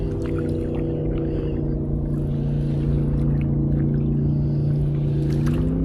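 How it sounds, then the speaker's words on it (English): A jet boat engine on a river drones loudly and steadily, a deep sustained hum with layered tones that rise slightly as it passes close by. "Another jet boat."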